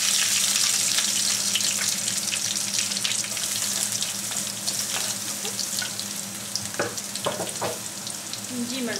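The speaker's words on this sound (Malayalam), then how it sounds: "എന്നിട്ട് നമ്മളിവിടെ അരിഞ്ഞു വെച്ചേക്കുന്ന നമ്മുടെ ഇഞ്ചിയും വെളുത്തുള്ളിയും നമുക്ക് ഇടാം." Chopped ginger and garlic fry in hot oil for a pickle, a steady loud sizzle throughout with occasional spoon scrapes and clinks against the pan near the end.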